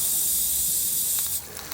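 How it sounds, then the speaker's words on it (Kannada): Mustard seeds splutter in hot oil alongside cumin, chana dal and urad dal, giving a dense, close sizzling hiss with rapid crackles. The sizzle thins toward the end into scattered pops. "ಸಾಸಿವೆ ಸಿಡಿಬೇಕು."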